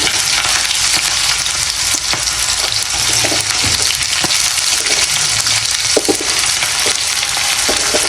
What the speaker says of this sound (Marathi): तेल छान असं आपल्याला परतून घ्यायचं आहे कांदा थोडा लालसर होईपर्यंत परतवायचं